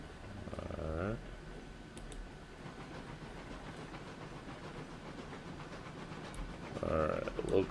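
A locomotive coasts along the rails in RailRoads Online, a faint, steady rumble and hiss with soft rhythmic rail clatter, a louder puff of sound at the start and again at the end.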